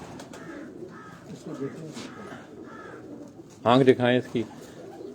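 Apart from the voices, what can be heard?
pigeon cooing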